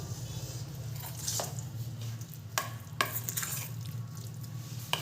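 Masala stirred into idli batter in a bowl, giving soft wet squishing and stirring with a few sharp clicks of the spoon against the vessel over a steady low hum.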